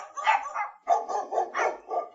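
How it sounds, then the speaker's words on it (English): Several dogs bark in short overlapping bursts, a sound effect in an illustrated audiobook of The 101 Dalmatians, with dogs lining a route at twilight; the barks come in about four clustered groups, fairly close and clear, with no talk. "The waiting dogs barked their good wishes,"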